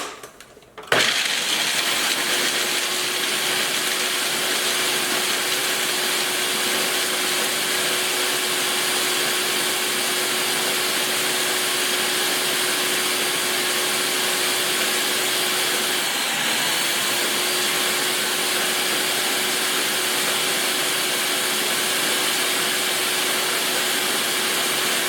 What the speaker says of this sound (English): now I'm going to blend it